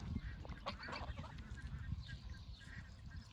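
Geese in a paddock give a string of nasal honks, fairly quiet and a little distant, scattered irregularly over a soft background.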